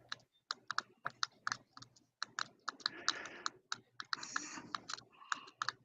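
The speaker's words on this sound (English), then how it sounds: "A clicking sound." Rapid sharp clicks repeat in irregular bursts, much like keys or a mouse being pressed near the microphone. Short stretches of rustling noise are mixed in, and there is no speech.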